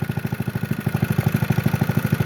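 Honda GX120 engine on a Motovox minibike running up close, a rapid even single-cylinder putter with a steady pulsing beat, held at a fairly constant speed rather than rising.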